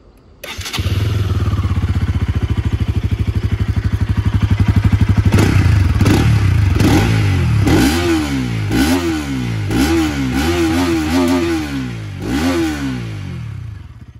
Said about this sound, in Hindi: इसका मैं एग्जॉस्ट नोट सुनाता हूँ आपको एक मिनट